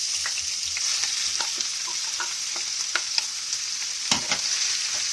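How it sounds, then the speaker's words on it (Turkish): Minced meat sizzles and crackles in oil in a hot pan, a steady bright hiss with scattered pops and occasional scraping as it is stirred. "İlk önce kıymamızı kavuracağız böyle."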